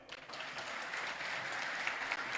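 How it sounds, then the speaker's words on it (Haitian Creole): An audience applauds at a political speech, a steady, fairly soft wash of clapping lasting a couple of seconds with no talk over it. "battons bravo pour Issa Pavel"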